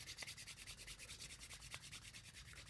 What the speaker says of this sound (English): I rub my hands together